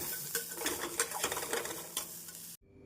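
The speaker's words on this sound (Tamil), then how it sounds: "2 ஸ்பூன் பொரிக்கடலை, மல்லி இலை, இவை அனைத்தையும் நன்றாக வாசம் வரும் வரை நாம் வறுத்து" Masala with roasted gram and coriander leaves is dry-roasted in a pan for plain veg salna, with a spoon stirring and scraping in quick, irregular strokes over a soft sizzle, close and clear, until the sound cuts off abruptly.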